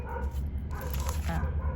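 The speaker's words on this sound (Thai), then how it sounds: "หมานี่มันเห่าวอนจะอยากไปอยู่วัดเลยเนาะ" A dog barks and yips repeatedly at a distance from a house, fairly faint, under a continuous low hum and someone talking.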